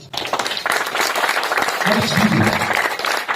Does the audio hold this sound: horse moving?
no